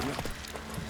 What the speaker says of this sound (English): Time to water the horses.